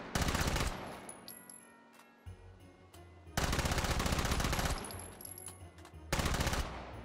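Bursts of automatic gunfire from the VR game Hot Dogs, Horseshoes & Hand Grenades on HTC Vive, two loud sustained volleys separated by a quieter gap with trailing echoes.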